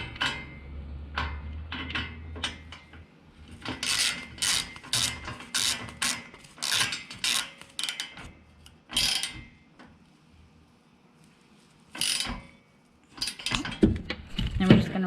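Bolts being tightened on an ARS bed rack fitted to a Jeep JT, heard as bursts of close metallic ratcheting and clicking in irregular runs, with short pauses and a few quieter gaps between them.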